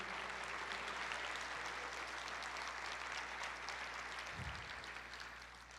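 Church congregation applauding during a sermon, a steady wash of clapping from a large crowd that holds evenly throughout and tapers slightly at the end, with a low constant hum underneath.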